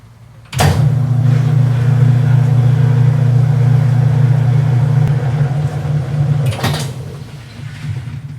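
A Whirlpool top-load washer with intermittent agitator, pump and spin faults runs its spin cycle as a steady, loud low hum and whir, with a sharp clunk near the start and another toward the end as the lid is lifted.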